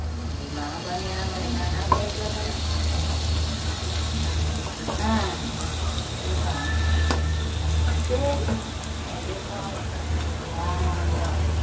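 Slices of elephant yam fry on a tawa in hot oil, crackling and sizzling continuously up close with occasional scraping and clinks of a utensil, while a person talks over it.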